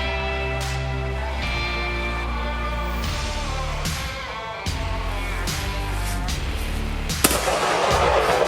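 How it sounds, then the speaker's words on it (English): Several loud gunshots crack at irregular intervals over a droning game soundtrack, with sharp reports and a louder burst near the end. "Oh, I heard a gunshot."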